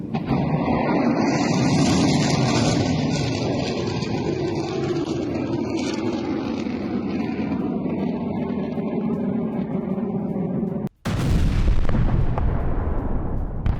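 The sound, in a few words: Bradley fighting vehicle attacking Russian troops, war footage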